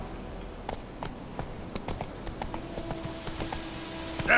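Roach, the horse in The Witcher game, walks at an even pace, hooves clip-clopping in a clear steady rhythm on hard ground, close and moderately loud.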